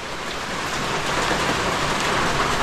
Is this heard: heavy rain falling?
yes